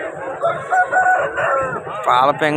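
A rooster crows loudly nearby at a fighting-rooster market in Vijayawada, a drawn-out harmonic call followed by a second shorter crow near the end.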